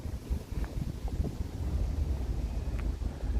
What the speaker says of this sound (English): it's pretty windy right now